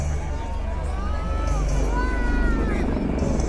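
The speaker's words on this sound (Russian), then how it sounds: "следующий удар наносит армейская авиация. Пара вертолетов" A pair of Mi-24 military helicopters over an army training ground, a continuous low rotor rumble with engine whine, mixed with background crowd noise and occasional voices.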